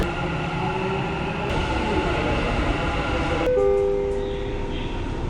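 Dubai Metro train running on the rails, a steady close rumble with tonal whine and brief chime-like tones, carrying on throughout without voices.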